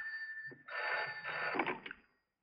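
An old telephone bell rings indoors in a single clear burst of about one and a half seconds, loud and close, then stops into silence.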